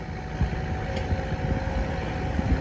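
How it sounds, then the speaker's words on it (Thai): A Kubota U55 excavator engine, working on a pond dig for an irrigation project, rumbles at a steady low idle from a moderate distance, with faint mechanical knocks over the drone. "นี่ครับคูบาตายูห้าห้าเข้ามาแล้วครับ"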